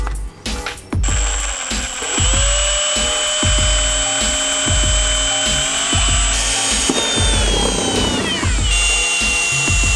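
A power drill whirs steadily for several seconds drilling a bolt hole in a Nissan 370Z NISMO conversion part, with repeated rhythmic thumps, loud and close, pitch shifting near the end.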